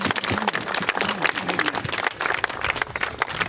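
An audience applauds at an outdoor Memorial Day program, loud, continuous clapping from a crowd with sharp individual claps throughout and a few brief voices or whoops underneath.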